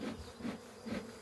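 Honeybees buzzing at a hive, a dense droning hum that swells and fades in soft pulses, close by and steady, with no voices.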